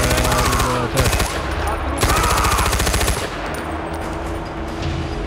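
Machine gun fire in Far Cry 4, long loud sustained bursts of rapid automatic shots rattling close by, briefly broken then resuming, with a voice talking over part of it.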